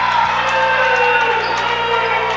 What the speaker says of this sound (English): Very unhappy crowd here.